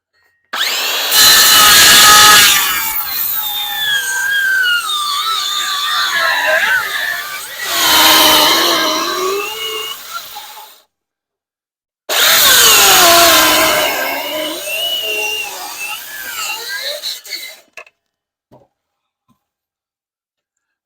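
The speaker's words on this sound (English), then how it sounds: "I'm going to take my saw and cut a 45 on it, on one edge." Power saw cutting a 45-degree bevel along one edge of a wooden board, in three loud whining bursts with the motor spooling up and down, separated by short pauses and ending in silence.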